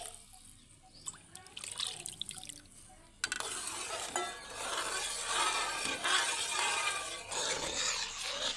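A ladle stirs Karachi halwa mixture in a pan, giving wet, sloshing, trickling sounds with scraping, quieter at first and then steady and continuous, close up with no talk.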